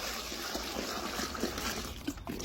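Dirty water pours from a bucket into a Shark Bag on a job site, a faint, continuous trickling and splashing that stays steady for a couple of seconds.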